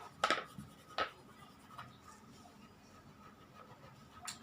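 A crayon scribbles across paper while someone colours a picture, in a few short, close scratching strokes separated by quiet pauses.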